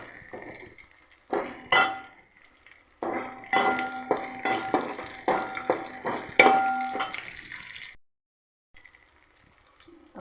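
Sliced onions and tomato sauté in a pan for a Tamil fish curry (meen kulambu), a metal spoon scraping and clinking in quick, irregular strokes over a faint sizzle, close and fairly loud, then falling quiet.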